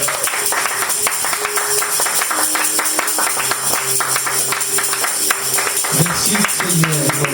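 A church congregation claps along steadily and loudly throughout, close and dense, with voices carrying over the applause.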